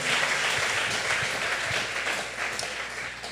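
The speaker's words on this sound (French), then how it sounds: "Acclamons plus fort le Seigneur." A church congregation applauds and acclaims the risen Jesus, a soft, dense patter of clapping spread evenly across a short moment, fairly distant.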